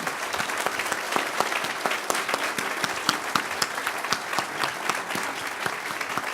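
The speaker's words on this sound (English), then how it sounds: "can we have another round of applause for him?" An indoor audience applauds at the opening celebration of a new law school building, with dense, sustained clapping from a large crowd and no speech over it.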